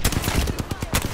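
Rapid automatic gunfire from a shooter in Apex Legends, sharp repeated bursts in a fast steady rhythm, loud and close, with a burst of talk mixed in.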